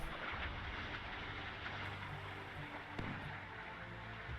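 Warships putting up defensive fire in the Sea Power naval game, a continuous dull roar of distant gunfire with faint thuds and a sharper bang near the end, no voices.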